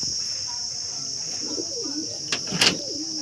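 Pigeons coo softly with wavering, rolling calls at a pigeon sale, over a steady high-pitched whine and faint background murmur.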